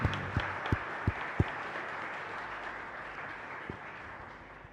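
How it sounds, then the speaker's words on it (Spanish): A congregation at Mass in a chapel, Capilla Caacupemí in Fernando de la Mora, breaks into soft, distant applause, opening with a few distinct sharp claps before blending into a faint, even wash of clapping. "con este fuerte aplauso, le damos muchas gracias, Padre Víctor"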